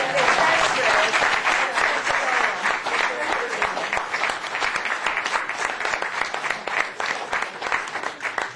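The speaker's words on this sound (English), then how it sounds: "can we give Teresa a big clap" Audience applause after a talk in Bournemouth, a dense, steady patter of many hands clapping continuously throughout, fairly close and loud, slowly thinning toward the end.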